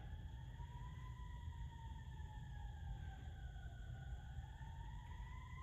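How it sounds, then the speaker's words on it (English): Emergency siren wailing faintly in the background, a long smooth tone gliding slowly down and back up over a steady low hum, distant and continuous with no talk. "sorry for the siren in the background"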